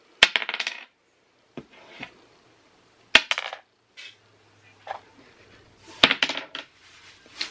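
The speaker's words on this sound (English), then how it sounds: "Rolled the same number three times." Dice clatter onto a hard surface in several separate rolls, each a sharp cluster of bouncing clicks and rattles followed by quiet gaps, fairly close and alone.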